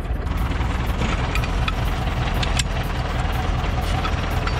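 A tractor engine, an Ursus at a tractor tug-of-war event, runs steadily at close range, a continuous low rumble with constant loudness throughout and no voices over it.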